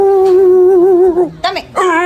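A person imitates a dog during a quick shouted animal-sound party game, giving a long sustained howl-like vocal that slides down, then two short yelping bursts close to the mic.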